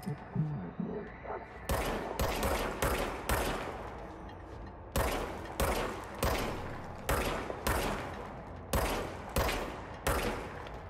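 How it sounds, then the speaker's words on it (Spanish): Service weapon fire in the video game Control: around fifteen loud single shots in two rapid volleys, separated by a short pause, each crack followed by a brief decaying tail. "Dispara arma de servicio."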